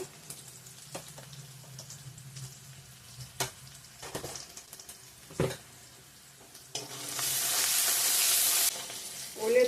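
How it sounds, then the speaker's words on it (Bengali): Garlic, ginger and onion sizzle with salt in a pan, a steady close frying hiss broken by stirring scrapes and clacks, with the sizzle swelling loud and bright toward the end. "রসুন কুচি আদাটা পরে দেব ভালো করে ভেজে নিই লবণ দিয়ে দিই তাড়াতাড়ি মজবে পেঁয়াজটা"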